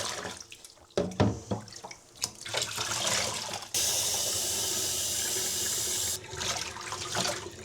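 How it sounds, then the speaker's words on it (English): Running tap water pours steadily while rinsing soap off a dog in a bath at home, with splashing and dripping bursts, then a sustained loud gush in the middle before easing back to irregular splashes. "is we just rinse all of this off"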